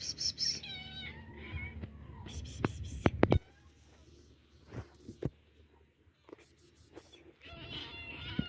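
Small kittens meow in thin, high-pitched rising calls, a cluster near the start and another at the end, with whispering and soft talk in the quieter middle.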